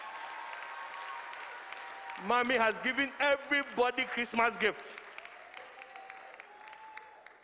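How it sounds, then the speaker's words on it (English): A church congregation at a Christmas Eve service breaks into a burst of applause lasting a couple of seconds, framed by a voice speaking before and a quieter hum after. "Let's clap for her and the church."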